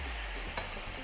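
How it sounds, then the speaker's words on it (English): Vegetables with sweet peppers and spicy sausage stirred in a pot over heat, giving a faint, steady sizzle with a brief scrape of the spoon, close by and with no talk. "standing over a pot, just stirring veg and listening to that sizzling sound"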